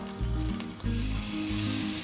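Steady, loud sizzling from a hot cooking pot, a continuous crackling hiss with no voices.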